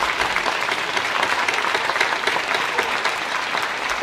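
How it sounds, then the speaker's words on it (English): At a National Honor Society induction ceremony, a roomful of people give a dense, sustained round of applause, loud and even for its whole length, with a faint murmur of the crowd beneath. "A round of applause for everybody, please."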